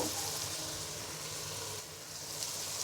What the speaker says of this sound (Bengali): এবার আরও দুই মিনিট ঢাকনা দিয়ে ঢেকে ভাজি করে নিব